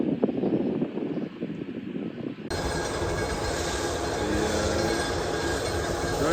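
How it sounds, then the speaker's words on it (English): Mount Washington Cog Railway train climbing the mountain, a loud steady rumble and clatter of the engine and rail cars that starts abruptly partway through and continues close by. "We got the Cog Railway coming up."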